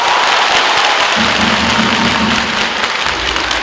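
A near-capacity basketball crowd roars at an indoor stadium during a professional playoff game, a loud, continuous wall of cheering and clapping with a low sustained tone droning underneath in the middle stretch.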